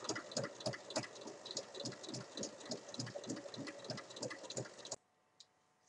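Sewing machine stitching along the length of a drawstring bag, a steady rapid mechanical chatter of needle strokes close by, running alone for about five seconds before stopping abruptly into near silence.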